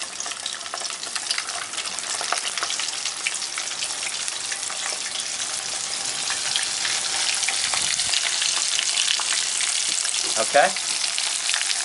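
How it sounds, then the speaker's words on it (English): Sardines dredged in flour seasoned with salt and pepper sizzle steadily in a hot pan, a loud continuous frying hiss that holds throughout, with a brief spoken word near the end. "we dredge our sardines in the flour that's been seasoned with salt and pepper, and then drop them right in"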